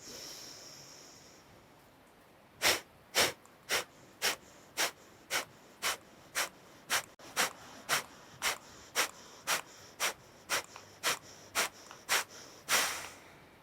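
About twenty forceful, evenly spaced nasal exhalations pulse in a quick steady rhythm during a yoga breathing exercise in a core and pelvic floor flow, close and clear against a quiet room.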